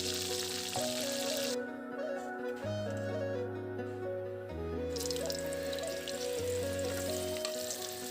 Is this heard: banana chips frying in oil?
yes